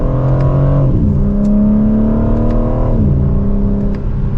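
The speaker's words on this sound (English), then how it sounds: "And with a mild acceleration, that was even in the slowest setting for the transmission." A 2025 BMW M4 Competition engine pulls under mild acceleration in manual mode from second gear, its loud, steady note rising in pitch before dropping at each of two upshifts, heard from the cabin.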